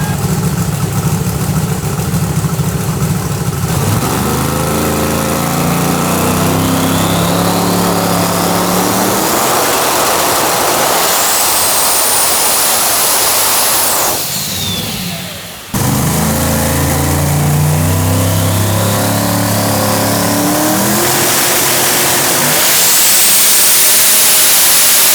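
A car engine revs hard on a FuelTech hub dyno, climbing from a rough idle to a high, sweeping wail, dropping briefly, then winding up again, loud and close with no talk.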